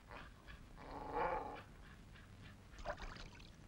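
A dog growls in low, rumbling bursts, the loudest swell in the middle and another near the end, faint and without speech, in a rural Telugu film scene.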